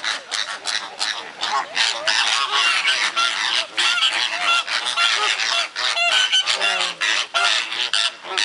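A dense flock of flamingos honks and squawks continuously, many loud nasal calls overlapping close by.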